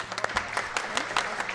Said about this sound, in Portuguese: Uma salva de palmas para o Rafael também.